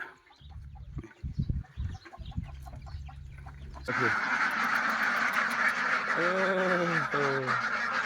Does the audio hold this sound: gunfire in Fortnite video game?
no